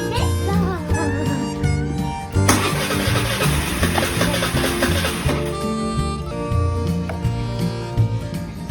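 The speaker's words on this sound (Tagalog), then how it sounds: "So pakita ko lang na hard starting din ng Avenis ko pag umaga" A Suzuki Avenis scooter engine struggles through a hard morning start, cranking and catching loudly under steady background music.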